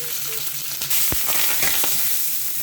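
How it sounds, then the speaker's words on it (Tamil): Cumin, curry leaves and garlic fry in oil for a low-oil yam fry, giving a steady, loud, close sizzle with a few sharp crackling pops and no talking. "நல்லா வறுத்துக்கோங்க."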